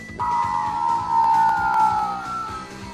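A tin yo-yo whistles as it is thrown, a steady metallic tone held for a few seconds, sliding slightly downward, with faint whirring underneath.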